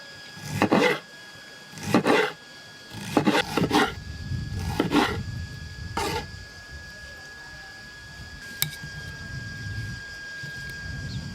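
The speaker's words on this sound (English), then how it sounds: "And we cut in slices." A knife slices toasted bread for Sicilian pane cunzato, with about six rough, rasping strokes that come close together early on and then spread out, near and clear, followed by quieter handling and background hum.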